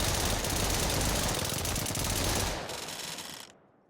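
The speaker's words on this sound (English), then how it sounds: "the MAC-10 is great when I want to see what happens when the fire rate goes way up" A MAC-10 submachine gun fires a continuous rapid burst in a VR shooting range game. The harsh, dense, loud rattle holds steady, then thins and cuts off abruptly near the end, with no talking.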